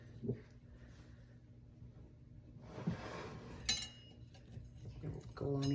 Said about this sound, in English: We have finally cooled down enough to slice this quiche up and serve it.